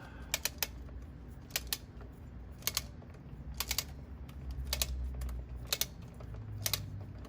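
An oil filter housing on a Porsche 997.2 is turned with a torque wrench, giving faint, evenly spaced pairs of small ratcheting clicks over a low background hum.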